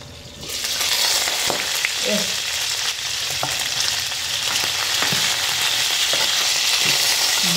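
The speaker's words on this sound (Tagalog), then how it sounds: "Pwede ko na siyang i-prito sa kanyang mantika" Steady loud sizzling of food frying in hot oil, with small crackles and pops throughout and no speech.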